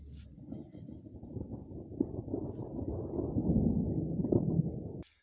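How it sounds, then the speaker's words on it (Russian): A low, rolling rumble of distant thunder builds and swells over a few seconds, then cuts off abruptly. "Слышен гром."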